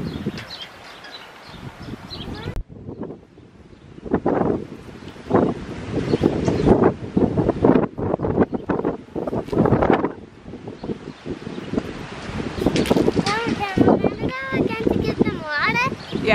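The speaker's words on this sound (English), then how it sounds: "I can't believe how windy it is today." Strong wind gusts buffet the microphone outdoors on a homestead on a breezy May day, a loud rough rumble rising and falling throughout, with people talking over it.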